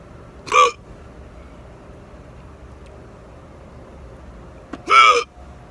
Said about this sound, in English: the hiccups kicked in